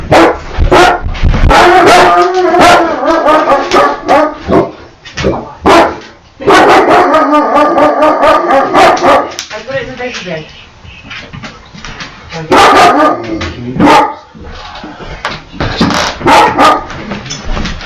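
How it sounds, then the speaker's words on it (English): A pet dog inside a home in Western New York barks in repeated loud bursts as people arrive at the door, with a person talking between and over the barks. "My dog's going to bark."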